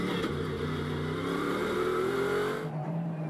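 Bentley GT race car at Las Vegas Motor Speedway during a GT World Challenge race, engine note climbing then dropping sharply as it short shifts, a loud sustained roar cutting off near the end.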